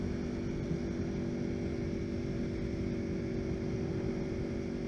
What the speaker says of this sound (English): SC Project exhaust on the Aprilia V4s. It's a little bit more throaty, a little bit louder.